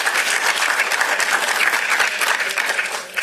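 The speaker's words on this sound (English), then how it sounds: "they should get a round of applause" Loud, sustained round of applause for first-time attendees at a conference awards event, many hands clapping in a thick, even wash that eases slightly at the close.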